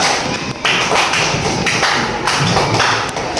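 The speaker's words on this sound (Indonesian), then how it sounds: "Tepuk tangan kelompok dua" A class applauds group two with thick, thumpy clapping from many hands indoors, continuous and loud across the whole stretch, with no voices rising above it.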